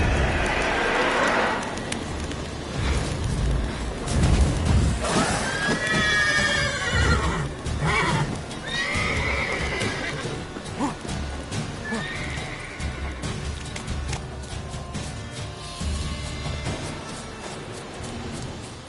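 A horse in a video game neighs and whinnies several times with rising and falling squeals, over galloping hoofbeats and a background of rain and occasional birds, fairly close and prominent.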